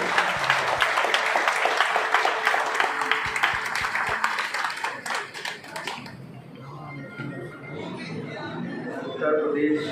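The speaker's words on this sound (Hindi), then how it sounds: "एक बार जोरदार ताली के साथ करके स्वागत किया जाना चाहिए" Audience at a Sonbhadra tax bar association gathering in Uttar Pradesh applauds loudly to welcome a guest, dense clapping for about six seconds before it fades and a voice speaks.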